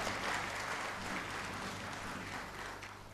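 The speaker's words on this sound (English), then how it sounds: "a big round of applause for all the students present here as well" Audience applause at a graduation convocation ceremony for graduating students, a dense, steady wash of many hands clapping throughout, fairly loud and continuous with no voices on top.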